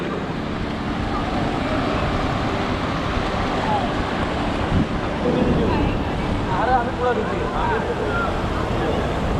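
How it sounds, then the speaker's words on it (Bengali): Strong sea waves surge onto the beach at Cox's Bazar in a steady, heavy wash of surf, heavily mixed with wind rumbling against the microphone. "অনেক বেশি ঢেউ"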